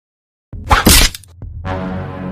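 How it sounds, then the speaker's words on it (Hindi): A glass medicine bottle knocked off a table in a small medical store hits the floor with a loud, sharp shattering crash, followed by a brief clink of pieces and a lingering ringing tone. "अचानक से उसके हाथ से मेज पर रखा दवाई का बोतल उसके हाथ से टकराने से गिर गया"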